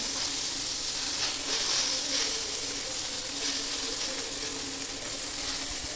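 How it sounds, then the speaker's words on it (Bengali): Eggplant pieces frying in oil in a wok, giving a steady, close hiss and sizzle with faint crackles throughout and no voices. "তো আর বেগুনগুলোই কিন্তু এভাবে উল্টে পাল্টে একটু ভেজে নেব"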